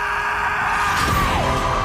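An anime character lets out a drawn-out, strained battle scream during a sword fight scene, rising over music and effects for a couple of seconds.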